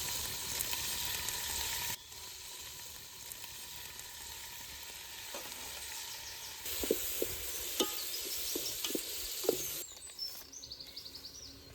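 Green chillies and green peas frying in hot oil for biryani, a steady sizzle that drops back after a couple of seconds, with stirring clinks in the middle and birds calling faintly outside.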